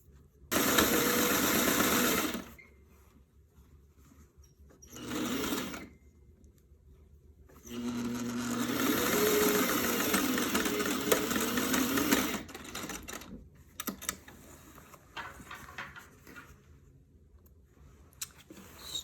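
Sewing machine stitching faux chenille binding onto a quilt, running in loud bursts of steady whirring with pauses between, near and without speech.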